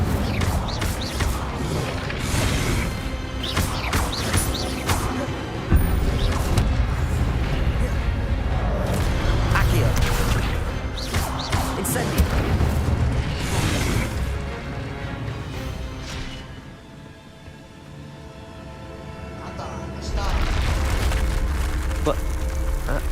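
Incendio fire spell cast during combat in the video game Hogwarts Legacy, with repeated whooshing bursts and crashing impacts layered over dense battle noise and game music, loud and continuous, with a voice speaking at times.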